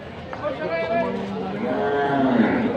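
A water buffalo (kalabaw) at a busy livestock market gives a drawn-out, low moo near the end, with people talking over the crowded background throughout.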